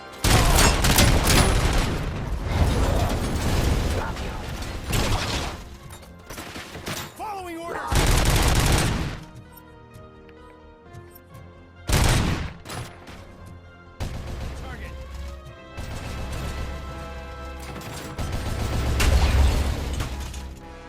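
A turret opens fire during combat in the game RoboCop Rogue City, delivering dense rapid bursts of gunshots with booms and mechanical clatter, separated by short lulls of quieter action.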